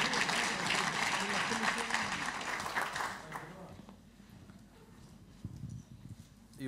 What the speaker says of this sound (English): I think we should give Edouard a big round of applause